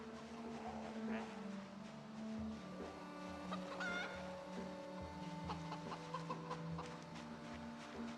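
Chicken clucking in the Project Zomboid video game, repeated clucks and short calls over a low engine-like drone, close and fairly quiet.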